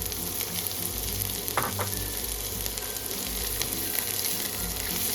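Chopped onions and garlic fry in hot oil, giving a steady, close sizzle that holds through the whole stretch, with a couple of brief stirring scrapes partway through.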